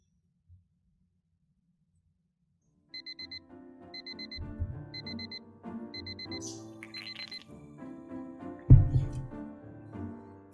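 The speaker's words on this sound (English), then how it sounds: "I woke up to my alarm beeping" Alarm clock beeping in a visual novel video game, a regular series of short bright electronic beep groups repeating over soft background music, with a loud thump partway through.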